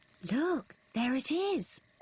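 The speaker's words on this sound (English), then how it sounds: "That is the sound of crickets chirping." Crickets in a cartoon night scene keep up a thin, steady chirp beneath a voice that speaks over it.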